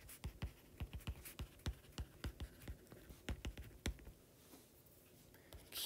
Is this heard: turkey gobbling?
no